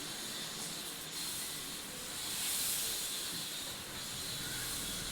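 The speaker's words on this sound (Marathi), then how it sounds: "जरा असा ताव आला चुरचुर वाजलं की मग घावण छान होतात" Steady broadband hiss of mung bean flour ghavan (pancakes) sizzling on a hot pan, even and continuous, swelling slightly midway with no talking.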